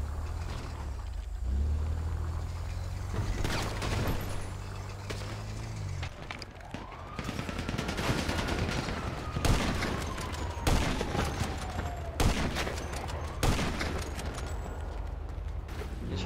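Gunfire rings out in a video game roleplay server, with bursts of shots and sharp cracks spread across the scene alongside a passing vehicle engine that rises and falls, moderately loud with no talk over it.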